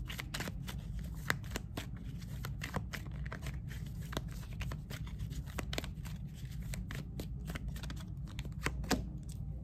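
Tarot and oracle cards being shuffled by hand, a steady run of crisp riffling snaps and soft slaps repeating close up across the whole stretch, with no talking.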